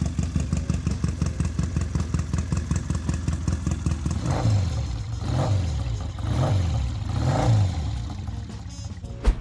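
Triumph Tiger 100 British parallel-twin motorcycle engine running steadily up close, then revving in several rising and falling surges before settling back.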